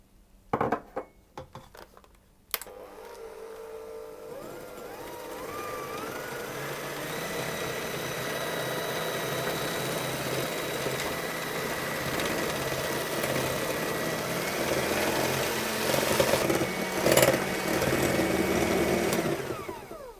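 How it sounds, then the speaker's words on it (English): Electric whisk beating sugar into cake batter for a vanilla and plum cake, a steady close whirring motor drone with gently wavering pitch that runs on after a few knocks at the start. "I'll add my sugar, and I'll whisk it until it starts to thicken and has lots of air in it"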